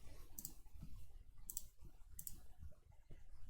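Computer mouse clicks while saving a file: a few sharp, faint, close clicks spaced apart over a quiet room hum, with no talking.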